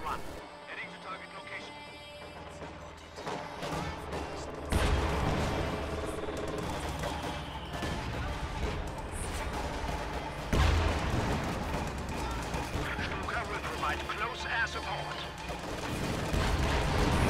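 Aircraft strafing run in the video game Company of Heroes 2: rolling bursts of gunfire and heavy impacts crash through a dense battle din, with people talking throughout.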